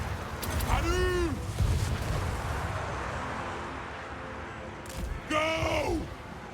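Ranged units firing in Total War Warhammer 3, with heavy booming volleys and rumbling impacts alongside warlike voiced battle cries in two loud bursts separated by a calmer stretch.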